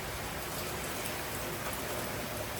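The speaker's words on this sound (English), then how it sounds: "I'm going to add a little bit of water, like little water." Steady hiss of a little water being poured into a cooking pot in a home kitchen in Kampala, soft and continuous throughout with no talking.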